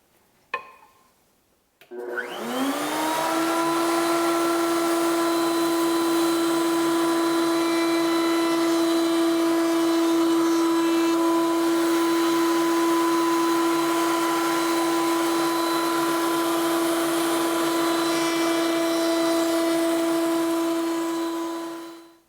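A router fitted with a 1/4 inch round over bit spins up and runs steadily with a loud, high whine as it rounds over wood corners, then winds down at the end.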